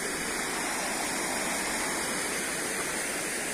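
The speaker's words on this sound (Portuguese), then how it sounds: "Aqui é a represa." Water pours over a river dam at a town reservoir, giving a steady, dense rushing roar like a waterfall, close and continuous with no talking.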